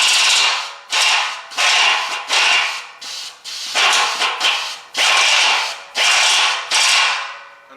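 A step drill bit cuts through metal while drilling out a 7/8 inch hole, producing a loud, harsh grinding noise in repeated bursts of about a second each, separated by short pauses, with no talk.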